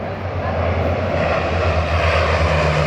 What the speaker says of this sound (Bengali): যে এই যে আসতেছে ফায়ার সার্ভিসের প্লেন দেয়